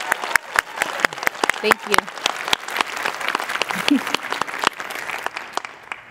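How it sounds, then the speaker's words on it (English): A room of people clapping for demonstrating artists Natasha and Beth at a hand-built porcelain vessel demonstration, sharp individual claps ringing out over a dense clapping bed, with a brief spoken thanks near the end. "a big round of applause for Natasha and for Beth"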